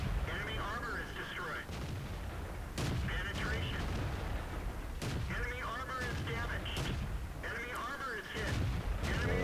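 Repeated heavy cannon blasts from tanks such as a KV-1, KV-3, Panther, E25 and Comet in a World of Tanks style battle game, sharp booming shots every couple of seconds over a constant rumbling engine and battle bed.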